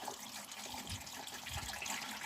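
Hot water pours into the fuel tank of a Honda NTV650 motorcycle for derusting, a continuous soft splashing and gurgling stream with faint low sloshes, steady and fairly quiet.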